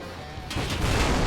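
Artillery barrage in the tank game Total Tank Simulator, with Tiger tanks advancing: a quiet lead-in gives way to a sudden loud, dense rumble of continuous gunfire and booms that keeps building.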